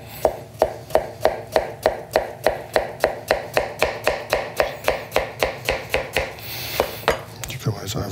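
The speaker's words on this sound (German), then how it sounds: "schneiden wir hier jetzt solche Scheiben" A knife slices a mango into pieces on a cutting board, about twenty crisp, evenly spaced chops in a steady rhythm, ending in a short scrape and clatter.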